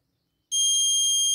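A Raspberry Pi Pico vehicle tracking system sounds its obstacle alarm: one steady, shrill electronic beep that starts abruptly and holds loud and close.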